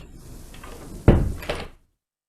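A front door in an audio drama opens with a short creak and shuts with a solid thud followed by a second knock-like bump, close and alone, then silence.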